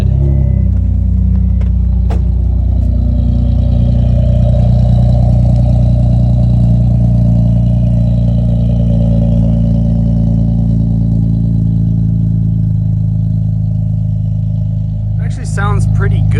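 An Acura Integra with a Skunk2 exhaust on a cold start holds a loud, steady, deep drone that stays even throughout, with a brief rustle near the end.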